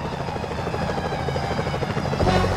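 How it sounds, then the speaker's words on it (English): A security helicopter in Sly Cooper: Thieves in Time drones with a loud, steady rotor chop that grows stronger toward the end. "Whoa! Helicopter! Careful, Fly! Those security choppers are bad,"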